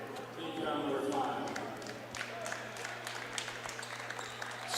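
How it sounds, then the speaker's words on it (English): Smattering of applause from home fans at a high school basketball game in a gym, scattered light claps under a steady background hum, with a commentator talking over it. "Smattering of applause from the Eudora faithful"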